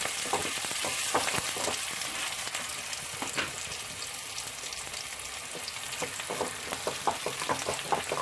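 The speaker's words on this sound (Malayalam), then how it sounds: "കറിവേപ്പില. ഇത് നമുക്കത് താളിച്ച് വയ്ക്കാം." Curry leaves and small onions crackle and sizzle in hot oil as a tempering for a mutton and potato curry, giving a steady close frying hiss with frequent sharp pops throughout.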